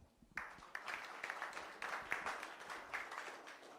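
A modest audience at a venture capital panel breaks into applause after a brief quiet moment, a mix of individual claps and dense clapping at moderate distance that continues steadily to the end, with no voices on top.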